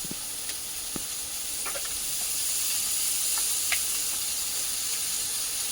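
Kangul fish sizzle steadily in hot oil over a clay stove, a bright continuous hiss with scattered small pops and crackles, close and moderately quiet.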